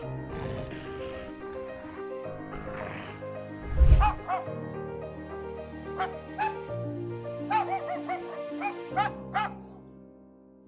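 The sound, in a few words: Yorkshire terrier dog attacked by a coyote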